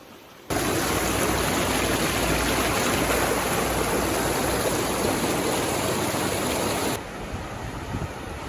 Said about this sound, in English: Seems to be the dull roar of water.